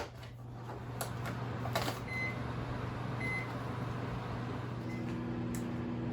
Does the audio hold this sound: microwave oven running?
yes